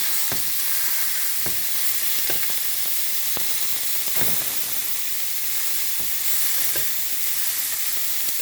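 A New York strip steak sears in a pan of garlic-infused oil with a steady, loud sizzle and hiss, punctuated by scattered sharp pops and crackles.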